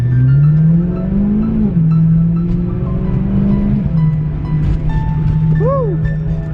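A BMW M3 engine drones steadily while driving, with pitch rising and falling as the revs change through shifts, close and loud, and a brief chirping whoop near the end.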